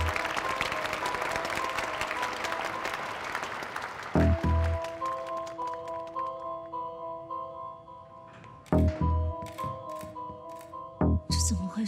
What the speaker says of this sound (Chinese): 接下来，让我们报以最热烈的掌声